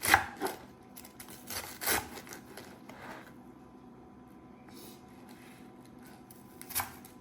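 Lettuce chopped into small pieces with a knife on a board for a chicken breakfast wrap, a few sharp cuts up front, then quieter taps and one last cut near the end, with no talking.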